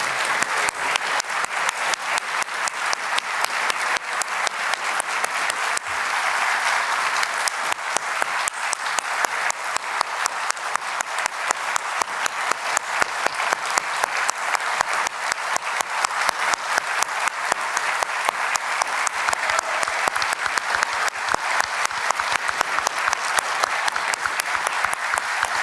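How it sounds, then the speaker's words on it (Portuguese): Sustained, loud applause from a large audience at a Brazilian ministers' swearing-in ceremony at the presidential palace, dense steady clapping filling the whole stretch without pause. "peço que todos nós possamos agradecer, com uma salva de palmas"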